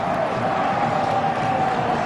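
A packed football stadium crowd roars in a steady, dense wall of noise after a Ghana Black Stars goal by Francis Coffie, sustained and loud throughout.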